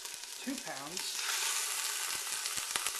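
Ground meat for chili browning in a pan, a steady close sizzle with spatula scrapes and stirring knocks, and a brief voice near the start.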